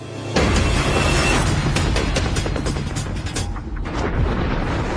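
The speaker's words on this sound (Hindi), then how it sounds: "उस धमाके को सुपरनोवा कहते हैं" Dramatic explosion sound effect for a supernova, a loud booming rumble that erupts suddenly and sustains with crackling bursts before a brief dip and a second surge, with no voices.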